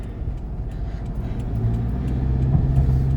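Road traffic with cars driving past, a continuous rumble of engines and tyres that grows slightly louder toward the end, close and steady with no voices.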